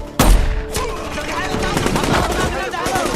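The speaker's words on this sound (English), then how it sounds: "the enemy immediately responds with heavy gunfire." Heavy gunfire from a film action scene opens with a sharp, loud blast, followed by sustained rapid automatic fire and overlapping shots under dramatic sound.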